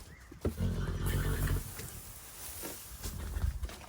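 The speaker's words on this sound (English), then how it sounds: "give these horses a bit of feed. They're making all sorts of noises." Several hungry horses whinny and neigh in a yard while waiting for feed, with loud close calls rising and falling over a few seconds and some hoof movement underneath.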